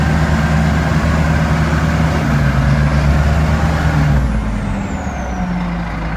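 A Caterpillar 936E wheel loader's engine roars loud and close, running steadily as the machine works through its gears, with a faint whine sliding overhead.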